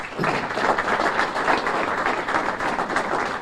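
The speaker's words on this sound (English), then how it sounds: "let's give them a round of applause" Steady applause from an audience at a mayor's State of the City address in Waterville, dense clapping sustained and even throughout without a break.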